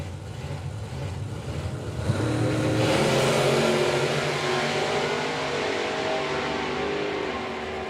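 Two drag cars, a supercharged big-block Chevrolet Malibu and a Ford Cortina estate, launch down the strip together; engine roar builds sharply and holds loud as they accelerate away, with no talk.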